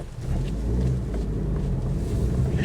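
A Mitsubishi Shogun Pinin with a worn, noisy wheel bearing, heard while driving with the steering on lock: a steady low rumbling drone of road and drivetrain noise, continuous and fairly loud throughout.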